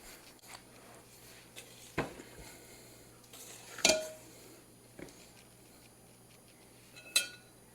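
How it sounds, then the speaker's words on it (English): A pan of oatmeal raisin cookies goes into the oven with a few scattered metallic clanks and taps, the loudest being a sharp rattle of the metal pan and rack, quiet in between, with no talking. "let's get these oatmeal raisin cookies in the"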